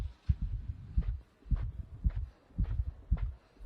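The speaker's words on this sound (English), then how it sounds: "I'm gonna increase a bit the volume of the game so that we can all hear the heartbeat." A slow, deep heartbeat throbs in the video game INSIDE, paired low thumps repeating about every half second alone in near silence.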